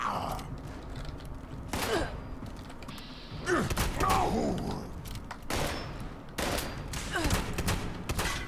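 Gunfire in Fallout 76 cracks out in separate bursts, with sharp shots spaced across the clip over game ambience, mechanical clanks and creaks.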